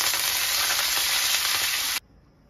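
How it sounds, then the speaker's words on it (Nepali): Greens dropped into a hot pan over an open fire for a village meal, a loud dense hiss of sizzling that cuts off abruptly to near quiet, no voices. "यहाँ साग हाल्छु साथीहरू"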